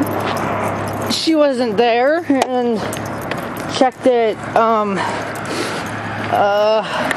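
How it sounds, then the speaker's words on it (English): A dog whimpers and yips in a series of high, wavering cries at close range, interspersed with a person speaking. "yeah, that's my dog in the camera."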